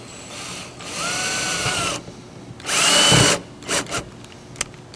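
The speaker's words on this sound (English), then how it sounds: "Let me drill this real quick" A power drill bores into a piece of fatwood in several bursts: a long whining run, then a louder high-pitched push, followed by short blips and a faint click as the bit slows.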